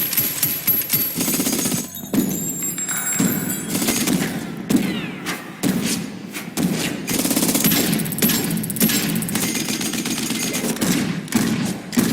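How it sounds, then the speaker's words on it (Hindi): Sustained machine gun fire in a big action shootout from the 2019 Tamil film Kaithi, loud dense bursts of rapid shots and impacts continuing with brief gaps, layered with booming effects and no speech. "फायरिंग करते ही जाते हैं और ये फायरिंग तकरीबन 3 मिनट तक चलती है"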